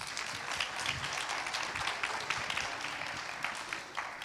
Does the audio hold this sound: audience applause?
yes